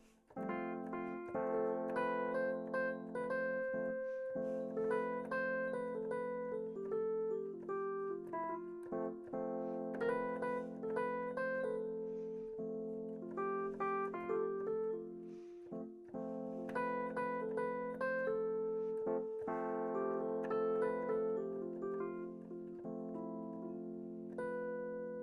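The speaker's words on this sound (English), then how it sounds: "that's the sound of the Lydian mode" A clean, bright melodic instrument plays a flowing major-sounding scale with a raised fourth, notes rising and falling steadily over a sustained low tone.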